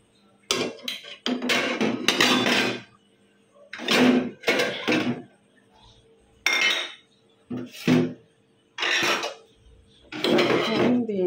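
Half-boiled fried potato pieces being added to a pot for kacchi biryani: several bursts of spoon scraping and metal clinking against the pot, separated by short pauses.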